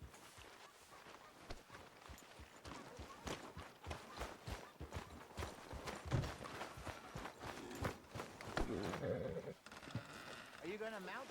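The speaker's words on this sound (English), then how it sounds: "Are you gonna mount that new horse of yours or not?" Rhythmic horse hoofbeats in Red Dead Redemption 2 clip-clop steadily under a voice talking, with brief louder thumps and a shift in the background near the end.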